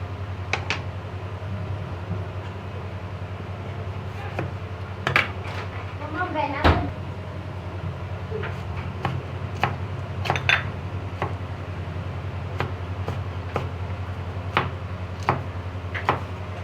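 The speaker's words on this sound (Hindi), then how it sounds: "अब हम टमाटर भी इसी तरह से काट लेंगे।" A knife cuts tomatoes for a salad on a board: scattered sharp taps and clicks, several close knocks, and a louder clatter partway through, heard over a low steady hum while a person talks.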